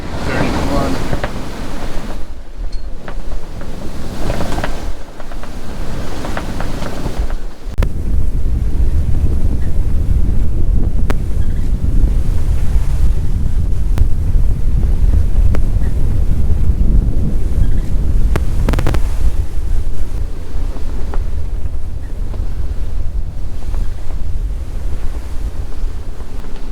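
A reefed sailboat runs through strong wind and rough seas; heavy wind buffets the microphone as waves crash and surge loudly and continuously, with brief gusty peaks.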